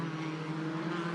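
Steady, sustained engine drone of a Formula 4 race car during qualifying at the Macau Grand Prix, a continuous tone heard from a distance without voices.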